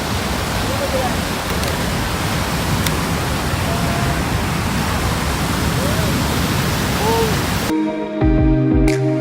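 Dense, steady roar of a huge waterfall heard up close, a broad wash of rushing water that fills everything, with a brief shift near the end as the sound changes abruptly.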